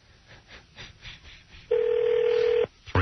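A landline telephone call being placed: a few faint keypad tones and clicks, then a loud steady tone held for about a second, followed by another burst of tone at the end.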